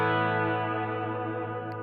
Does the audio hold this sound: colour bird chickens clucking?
no